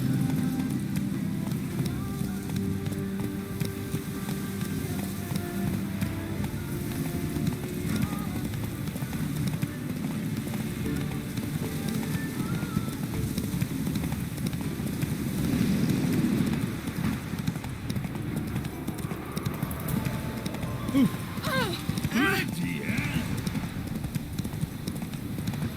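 Horse galloping in The Witcher 3: Wild Hunt, a steady, dense clip-clop of hooves that runs continuously and loud, with game sounds and occasional voices underneath.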